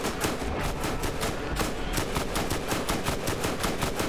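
Rapid automatic gunfire in the video game Borderlands, a fast, even stream of loud, close shots rattling without pause for several seconds, with a brief break in the middle before the burst resumes.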